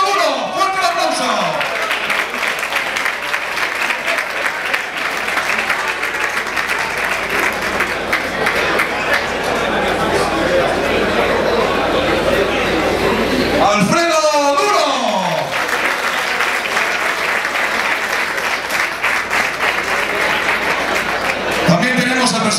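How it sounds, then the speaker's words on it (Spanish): Loud, sustained audience applause at a tribute event, dense clapping with some shouts mixed in and brief voices breaking through. "¡Fuerte el aplauso!"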